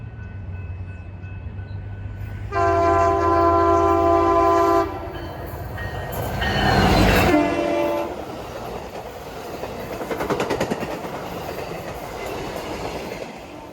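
An Amtrak train with NPCU 90215, a former F40PH locomotive, passes close by and sounds a loud multi-tone horn in several blasts over the rumble and clatter of the cars.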